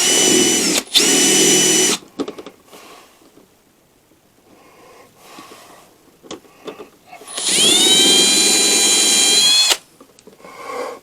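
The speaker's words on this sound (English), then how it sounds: "I'll use the same drill" A power drill runs in two bursts, a short one about a second long and a longer two-second run that winds down, with quiet handling clatter and small knocks in between while working on a battery box.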